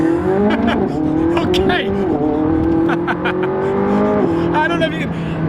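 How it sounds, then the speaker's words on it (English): An Audi R8 spins its wheels while accelerating hard, giving a loud, continuous engine roar with rising pitch and brief tire chirps, close by, with people talking over it. "We got some wheel spin right there."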